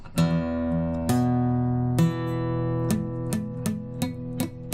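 Guitar chord strings picked one after another, some ringing and others cut short with a dull, muted thud from fingers placed too low, the picking speeding up toward the end.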